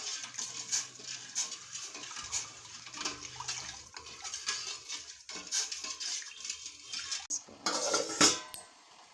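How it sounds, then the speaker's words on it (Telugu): Cardamom and ghee being stirred in a metal pot while cooking, with close clinking and scraping of a spoon against the pan in irregular bursts, fairly quiet and with no talking. "కలుపుతూ ఉండాలి."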